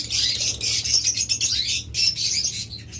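Pet lovebirds and budgerigars in a bird shop call constantly, filling the air with dense, overlapping high chirps and squawks that pulse in close, busy waves with no talking.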